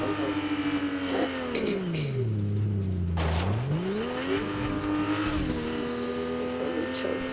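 A car in the Fortnite video game drives with a loud, steady engine drone. Its pitch dips and climbs as the car slows and revs again, over a constant rumble with faint tire noise.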